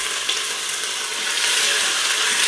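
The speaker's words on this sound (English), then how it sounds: "Ooh, you can hear that sizzling." A loud, steady sizzle of meat browning in a hot pot, a dense crackling hiss that swells slightly partway through, with no talking.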